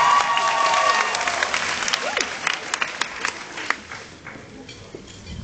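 A burst of applause from a small crowd of women at a formal student dinner, dense clapping at first that thins out into scattered claps toward the end.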